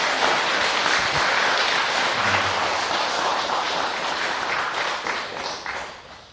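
A congregation at a Buddhist monk's dharma talk gives a big round of applause: thick, steady clapping from the start that holds, then thins and fades near the end.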